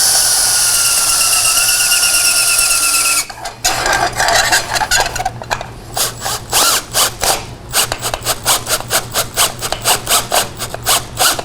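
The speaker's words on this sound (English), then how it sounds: "grab my drill and give it a shot" A power drill turning a metal-rolling roller whirs continuously up close, then breaks into a string of rhythmic, grinding bursts as it spins and rubs against the metal.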